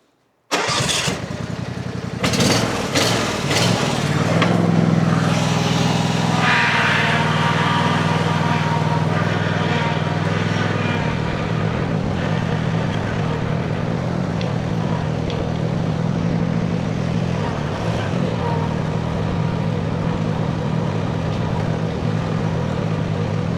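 A John Deere Z355E riding lawn mower, restored from a dusty junk condition, starts up and drives with a steady, loud mid-pitched engine drone that runs continuously close by, with no talk over it.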